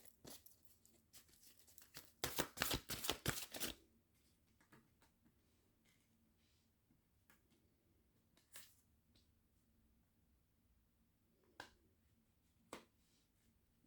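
Tarot cards are shuffled in one quick, crisp riffling burst lasting a second or two, followed by near silence broken by a few faint isolated taps and clicks.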